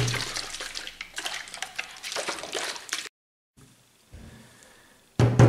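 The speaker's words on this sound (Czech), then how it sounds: "je potřeba z lahví štěrchat, než se sůl ve vodě rozpustí" Salt water sloshes and rattles inside a closed bottle being shaken to dissolve the salt, heard as rapid, uneven splashing bursts that stop abruptly into silence, then resume faintly and return loudly at the end.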